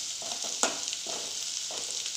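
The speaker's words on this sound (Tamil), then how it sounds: "இதையும் நல்லா எண்ணெயில் வணக்கிடுங்க" Chili powder and garam masala sauté in hot oil with a steady bright sizzle, while a few soft stirring scrapes come and go close by, with no talking.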